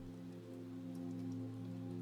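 Steady rain patters outside an old stone cottage, a soft continuous hiss over a low constant hum, with no voices.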